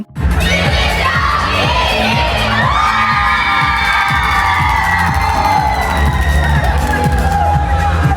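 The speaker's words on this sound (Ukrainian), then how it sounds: "А вже цьогоріч радіють від овацій за зайняте перше місце." A loud crowd cheers and shouts in an ovation for the first-place winners at a school battle gala concert, a dense continuous roar with whoops and high children's voices over a steady rhythmic backing.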